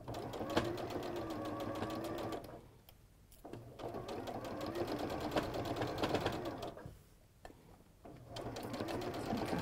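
Close, steady whirring and rapid needle chatter from a sewing machine stitching along a cushion edge, running in three long bursts separated by brief pauses, with no talking over it.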